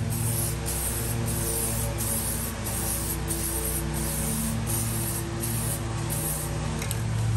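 Aerosol spray paint hisses continuously in short, repeated bursts as stainless-look paint goes onto a 1952 Chevy grille in thin coats, close and steady with no talk.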